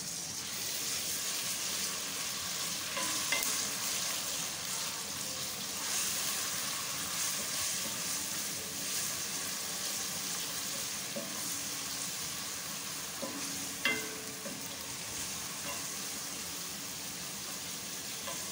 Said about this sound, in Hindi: लहसुन अदरक अच्छी तरह से फ्राई हो जाए